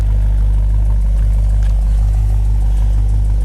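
1966 Ford Mustang GT with dual exhaust idling nearby, a steady deep low rumble holding constant throughout with no voices.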